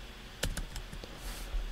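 Several quick keystrokes on a computer keyboard, a short irregular burst of clicks close up in a quiet room, with no voices.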